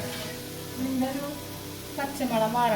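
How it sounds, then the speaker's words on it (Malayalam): Ground ginger paste being stirred into a frying pan for a chicken roast, a moderate sizzle running under a voice that talks over it in two stretches. "അരച്ചു വെച്ച ഇഞ്ചി പേസ്റ്റ് കേട്ടോ ഇനി അത് മിക്സ് ചെയ്ത് കൊടുക്കാം"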